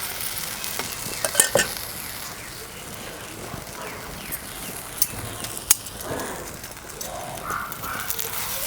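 Paratha brushed with ghee cooks in a pan over a low flame, a soft continuous sizzle with a few light clicks and scrapes, faint bird calls in the background and a voice speaking briefly.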